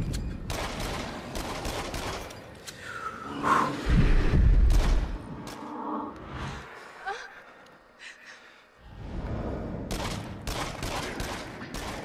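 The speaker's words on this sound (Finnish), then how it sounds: "Lopussa ammutaan sitten haulikolla, kun se tulee lähemmäs." Shotgun blasts in the video game Until Dawn, heavy booming shots with low rumble amid other gunfire, then a quieter stretch before more dense noisy action resumes.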